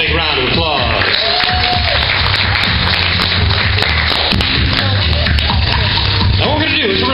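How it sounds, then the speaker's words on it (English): Loud, continuous applause from a theatre audience at a live stage hypnosis show, steady clapping filling the room for several seconds with scattered crowd noise and voices. "Let's give them all a big round of applause."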